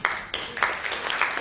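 An audience at a leadership talk claps in loose unison, with steady rhythmic bursts about three per second throughout a short stretch.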